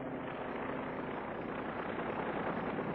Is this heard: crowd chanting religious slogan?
no